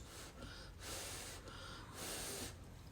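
Faint, soft snoring breaths repeat in a slow rhythm, three airy snorts spaced about a second apart in a quiet room.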